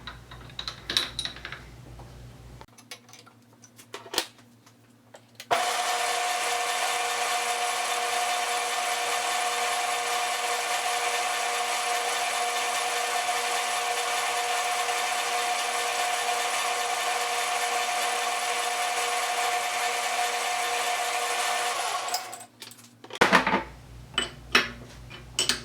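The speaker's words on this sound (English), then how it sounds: "So let me get a hole drilled in there so we can get it tapped." A drill bores a hole to be tapped for an 8 by 1.25 thread on a lathe tailstock setup, giving a steady, loud whining grind for about eighteen seconds, with quiet clicks and handling before and after.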